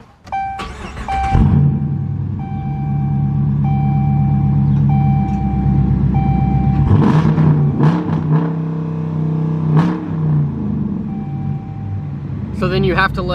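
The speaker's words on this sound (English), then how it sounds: "Wait a couple seconds, let your RPMs drop, and then you can bounce back and rev it again." A Dodge Challenger's engine fires up and revs close by, settling into a steady idle with a second rev burst near the middle and another toward the end, while an interior chime beeps and a person talks over it.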